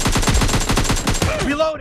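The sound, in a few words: gunfire in video game PUBG Lite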